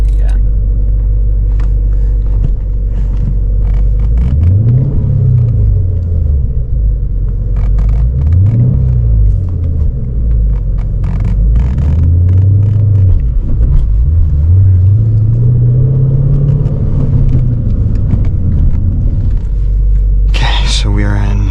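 Low engine rumble from a 425-horsepower Dodge Challenger SRT8 with a manual transmission, its pitch climbing and falling in repeated rev swells while a learner works the gas, heard close and steady throughout.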